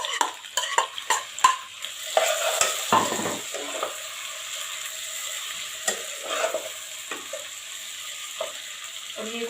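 Chopped tomatoes and green chillies hit a pan of browned onions and sizzle, with a spatula scraping and clinking against the pan in quick strokes at first, then a steady frying hiss underneath.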